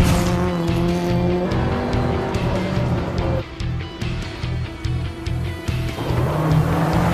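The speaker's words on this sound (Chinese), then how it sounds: "飞驰车队张驰发车很猛啊，这每一个弯道处理的相当完美" Race cars at speed through the corners of a circuit, engines roaring loudly with rising and falling revs and pulsing tire noise, continuous and close.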